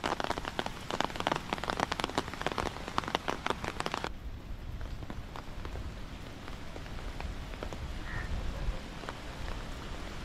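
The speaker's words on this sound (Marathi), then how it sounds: "हे बघा असा पाऊस पडलेला आहे आज." Heavy rain pours on a village, a dense drumming patter of close drops on surfaces that holds steady throughout, brighter and sharper in the first few seconds before settling into a softer continuous downpour.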